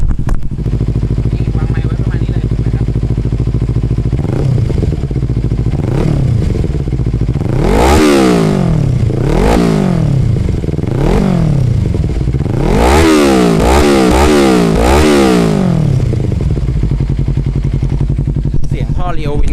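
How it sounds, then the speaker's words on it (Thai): A 2016 Kawasaki Z300 motorcycle with a Leo Vince aftermarket exhaust starts and idles, then is revved repeatedly in a series of loud rising and falling blips, close and dominant throughout. "มาฟังกันเรื่องของเสียงท่อ Leo Wins นะครับผมนะฮะว่ามันเสียงจะเป็นยังไงนะผม สตาร์ทกันให้ฟังนะฮะ"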